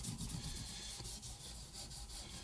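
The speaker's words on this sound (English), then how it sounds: "I'll just rub that all in, let it soak into the wood" Steady close rubbing and cloth friction as oil is worked into the wooden fingerboard of a Squier guitar, a continuous soft scrubbing texture with slight rhythmic strokes and no talking.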